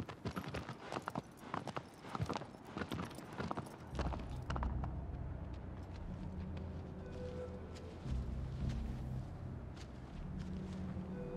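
Horse hooves in the video game Shadow of the Colossus, rapid loud clip-clopping for the first four seconds, then fading under a low rumbling, droning game background.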